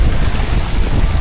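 Strong wind gusts buffet the microphone on exposed Lake District fells, a loud, continuous low rumble with no voices.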